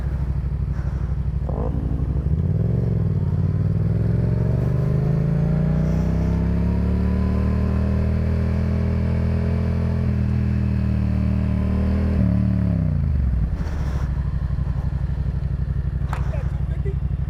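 A 700 cc motorcycle and a 250 cc motorcycle ride together, with a steady engine drone that rises and falls in pitch as they rev and cruise, close and loud throughout, and riders talk over it.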